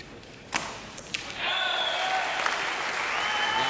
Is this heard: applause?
yes